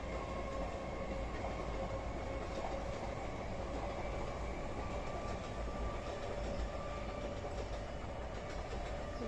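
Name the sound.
train passing by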